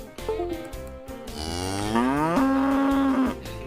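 A cow's long, loud moo rising and then holding steady, used as a podcast intro sting, with music beneath it.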